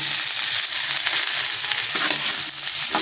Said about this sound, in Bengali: এটা আমি দিয়ে দেবো শশাগুলি একটু আমি নাড়াচাড়া করে নেবো।